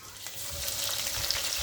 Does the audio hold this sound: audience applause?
no